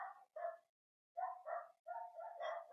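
A dog barks in a few quick bursts in a cemetery in Bulacan, two short barks, a pause, then a run of several more, moderately distant with no talking.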